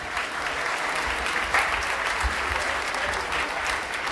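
An indoor audience at a worship-leaders' seminar claps steadily for the whole stretch, a dense, even wash of applause at constant loudness with no break.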